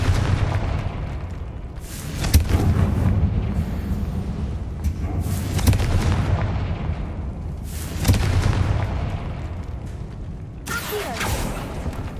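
A Confringo blasting spell explodes in Hogwarts Legacy, with several heavy booming bursts over a steady low rumble, loud and close, the blasts recurring every couple of seconds and no one speaking.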